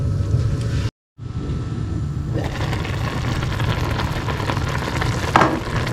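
An egg cooks with noodles under a lid in a covered pan, giving a steady, dense sizzle. The hiss cuts out for a moment and then carries on evenly, with one brief clink near the end.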